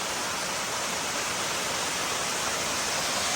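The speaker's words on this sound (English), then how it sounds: "All right, so that must be Auger Falls. That is just a beauty of a waterfall." Auger Falls in Gorges State Park, North Carolina: a steady, full roar of falling water fills the scene at close range, unbroken and dense, with no voices.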